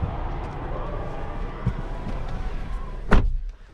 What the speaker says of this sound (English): the door does sound really solid when you shut it